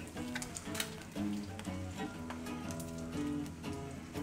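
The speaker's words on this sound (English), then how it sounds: "You're basting it with the bacon grease or butter." An over-easy egg basting in a pan of bacon grease and clarified butter, with beef bacon alongside, gives off a steady crackling sizzle like light rain. Tonal music plays underneath throughout.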